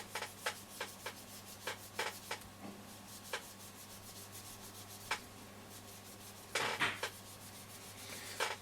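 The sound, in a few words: rubbing radio case with metal polish wadding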